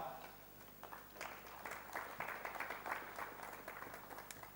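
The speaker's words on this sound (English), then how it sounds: "A big round of applause for Mr. Kumar." At an office-design summit, an audience claps for a speaker introduced on stage, a soft, distant patter of applause that builds after a second and holds steadily at low level.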